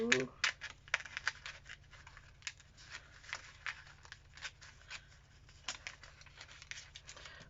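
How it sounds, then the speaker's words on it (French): Small paper card cut with scissors for an art journal page, a quiet close series of irregular snipping and rustling strokes over a low steady hum. "Donc je découpe la petite carte de l'auto."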